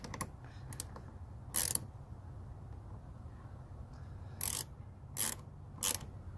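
A ratchet wrench tightens a nut during a scanner light install on a Lexus GX460. Short bursts of rapid metallic clicking come close and fairly quiet, one early and three more toward the end, with quiet handling noise between.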